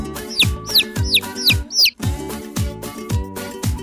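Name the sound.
chick peeping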